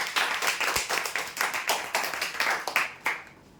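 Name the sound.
applause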